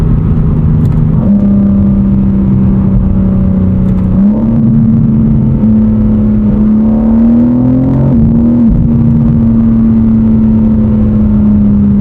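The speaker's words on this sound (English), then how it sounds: "It does make some cool noises though, doesn't it? There's a lot of tonal change throughout the rev range." A BMW M4 CS engine revs up and down through its rev range, its loud, continuous tone rising and shifting in pitch with a touch of boost, close and steady with no talking.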